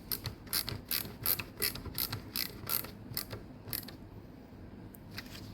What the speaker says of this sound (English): And screw your mag on.